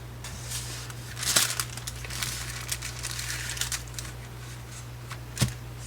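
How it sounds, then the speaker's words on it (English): Plastic packaging of a craft kit being handled, steady close crinkling and rustling with a few sharper crackles, over a low constant electrical hum. "Sorry for all the crinkling."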